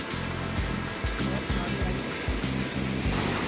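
Kali river rushing where it meets the Gori at Jauljibi, a steady broadband roar of turbulent water close by, continuous throughout with faint low rumbles.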